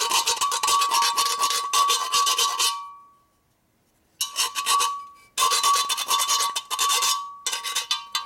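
Hand filing burrs off a 1967 Harley-Davidson Shovelhead motorcycle engine part held in a vise, repeated close rasping strokes in bursts with short pauses between.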